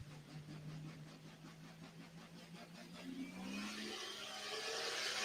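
Scrappy, a pulling tractor driven by Doug Meisinger of Goodland, Kansas, runs its engine at a live tractor pull, its drone rising in pitch as it revs up and growing louder and rougher toward the end.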